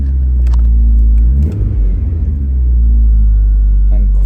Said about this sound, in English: quite a nice exhaust tone when she starts